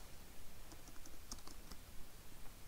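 Keys clack on a computer keyboard as text is typed into a spreadsheet cell, a quiet irregular patter of taps with a few sharper clicks.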